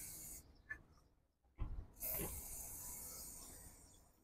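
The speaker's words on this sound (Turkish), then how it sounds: "Şimdi zincir yağlama spreyimizi güzelce zincirimizi lastiğe çevirirken bir yandan da yağlayacağız." Chain lubricant sprayed onto the chain of a Yuki Funrider 125 motorcycle as the wheel is turned by hand; a faint hiss and rub at the start, then louder, longer hissing bursts of aerosol spray close to the microphone.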